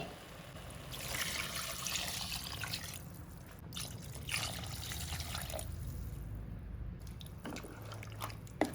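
Water is poured into coconut masala for a mutton keema sambar, making a quiet, continuous trickle and splash that runs for several seconds with faint ambient noise and no voices.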